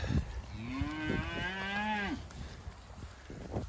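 Cattle being moved on a farm give one long, drawn-out moo that rises and falls, close and clear, with some faint rustling and handling noise around it.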